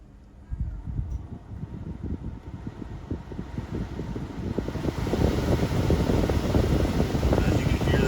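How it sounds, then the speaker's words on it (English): Heater and A/C blower fan in a 2020 Chevrolet Silverado, just repaired after failing intermittently, starting up with a whoosh of air that grows louder and steadier, with faint clicks and no talking. "As you can hear that wind blowing, it certainly does work now"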